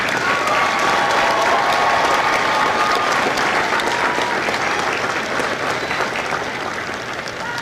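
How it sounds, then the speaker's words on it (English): Audience applause at a Marine Corps Recruit Depot San Diego graduation ceremony, a large crowd clapping loudly and continuously with a few faint whistles, tapering slightly toward the end. "please join me in a round of applause for the company staff of Company L."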